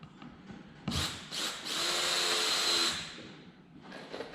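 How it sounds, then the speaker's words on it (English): Power drill pre-starting triple-coated decking screws into wood, with a short whir, a brief pause, then a longer sustained drive lasting about two seconds before winding down, close and clear. "I'm going to go ahead and pre-start my screws."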